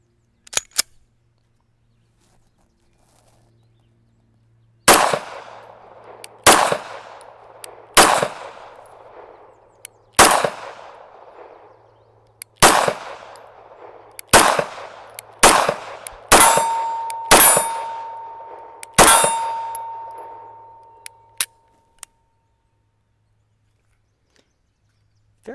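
HK P30 9mm pistol firing about a dozen sharp, loud shots at an outdoor range, spaced irregularly with quicker pairs near the end, each crack followed by a brief decaying echo and a faint metallic ring.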